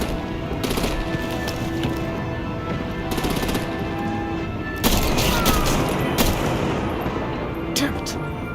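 Gunfire and artillery rattle through a battle scene in the video game Batman: The Enemy Within, dense rapid bursts and booms under shouted voices and game sound.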